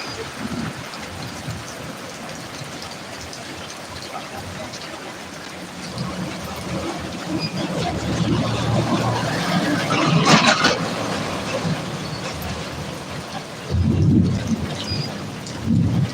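Steady rain hisses throughout, with low rumbles of thunder rising near the middle and again toward the end.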